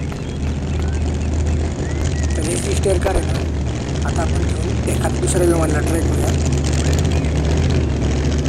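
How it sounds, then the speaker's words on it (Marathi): A propeller airplane in the video game Dude Theft Wars drones steadily throughout, loud and continuous, with someone talking over it. "अरे विमान कसं काय उडतोय?"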